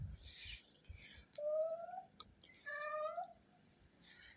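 A cat meows in a garden, giving two drawn-out, fairly close meows with a shorter cry between them and no one talking.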